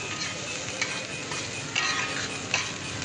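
Rice for nasi goreng fries in a pan with Aceh noodle spices and vegetables, a steady dry sizzle under soft scraping stirs, with a few slightly louder scrapes near the end.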